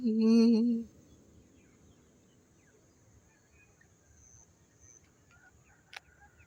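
A short loud bird call rings out at the start, then fades into a quiet outdoor background with faint distant chirps.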